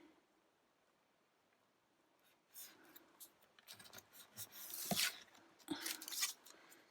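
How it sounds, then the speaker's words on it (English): Scissors cut through card stock while a handmade new baby card is made: after a near-silent start, a run of close, crisp snips and rustling scrapes. "And I am going to cut that one there"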